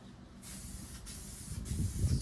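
A spray gun hisses paint onto Ducati Monster 620 parts in short, faint bursts, a soft airy rush with a low rumble underneath.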